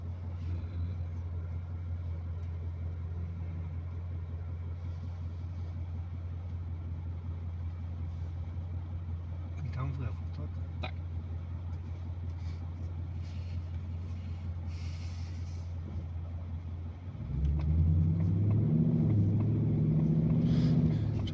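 Ford Mustang VI GT with automatic gearbox and 5.0 V8 rated 450 hp: a low steady engine drone that surges into a louder, rising growl near the end as it accelerates and shifts, with occasional talk inside the car.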